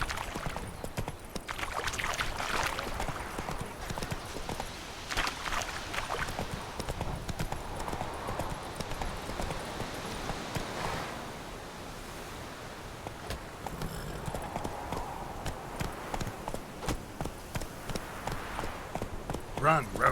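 Roach the horse trotting in The Witcher 3: Wild Hunt, a steady rhythmic clip-clop of hooves running on and on, close and fairly loud, with brief voices and ambient noise mixed in.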